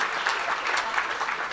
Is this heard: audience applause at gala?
yes